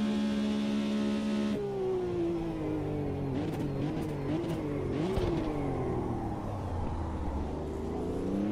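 Corvette race car engine in the sim racing game Automobilista 2, revving loudly and steadily with shifting pitch through gear changes, close and continuous with no talk.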